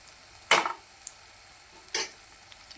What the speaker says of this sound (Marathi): थोडासा सब्जी मसाला टाकून घेऊया आणि मस्त फ्राय करून घेऊया